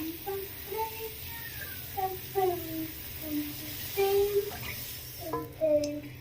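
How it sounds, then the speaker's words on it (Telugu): About three glasses of water pour into a pan for wheat rava upma, a soft, steady splashing that sits under a woman's speech. "ఇందులోకి 3 గ్లాసుల వరకు వాటర్ని యాడ్ చేసుకుంటున్నాను."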